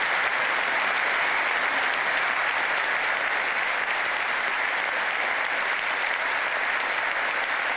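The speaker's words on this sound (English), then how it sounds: "basically clapping for just about everything Joe Biden said on the issue of Russia-Ukraine." Sustained, even applause from a large audience during a State of the Union address, following a line about defending NATO territory amid the Russia-Ukraine war; dense clapping fills the hall steadily without pause.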